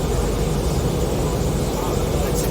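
An airliner on its landing approach to runway 20 at St Helena Airport gives a steady, dense cabin roar of engine and airflow that holds constant throughout.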